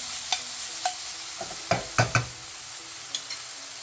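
Stir frying in a pan, with a steady sizzling hiss punctuated by intermittent scrapes and clacks of a utensil pushing food around, close and fairly loud with no talking.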